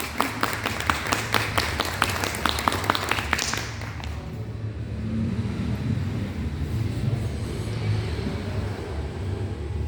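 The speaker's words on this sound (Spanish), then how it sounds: "Un fuerte aplauso, por favor." An audience at a book presentation claps for about four seconds, loud and close, then the applause fades and gives way to low room noise with no clear voices.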